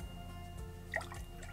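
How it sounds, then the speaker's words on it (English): Mirin is poured into a pan of soy sauce over medium heat, giving a faint, brief liquid trickle with a few soft drips. "Next, we're going to go in with the mirin."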